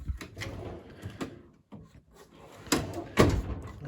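Drawers of a US General tool chest in a home shop open and close, giving a few sharp metallic slides and bumps, the loudest near the end, with quiet room noise between them.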